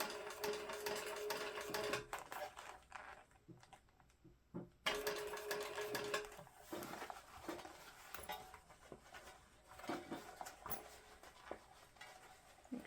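A sewing machine stitches a crossbody bag seam in short, quiet bursts of a couple of stitches at a time, with pauses and soft handling noises between runs.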